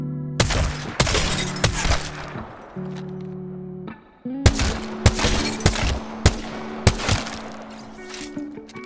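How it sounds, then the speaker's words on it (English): Shots from a G7 Scout rifle in a video game ring out in evenly spaced single reports, loud and sharp, with brief pauses between short strings of fire over steady game background tones. "let's slow down our shots to about the same fire rate as the 3030"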